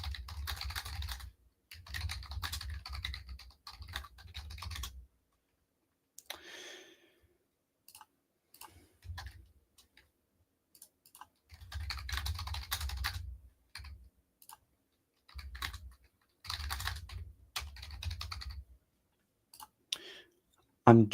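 Typing on a computer keyboard in bursts of rapid clicking, separated by pauses of near silence, close and fairly loud, with no talking.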